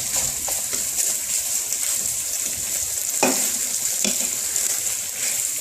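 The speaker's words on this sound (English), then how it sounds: "We're gonna stir the beef again." Beef for hibachi fried rice sizzles steadily in a hot pan while a utensil stirs it, with a few sharper scraping strokes over the constant frying hiss and no talk.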